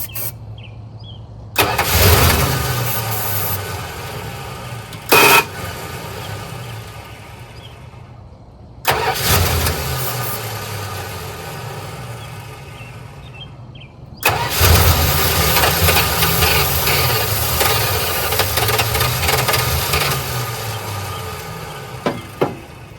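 A 1985 Dodge Ram D150 truck engine cranks in several loud bursts separated by pauses, then catches and runs steadily for the final stretch, close and alone with no talk.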